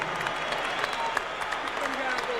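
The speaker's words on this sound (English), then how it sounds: "let's have a round of applause for these two heavyweights" Crowd applause for two heavyweight boxers after a 12-round bout at the Trump Plaza Hotel and Casino in Atlantic City, a dense clapping roar mixed with crowd noise and a voice talking over it.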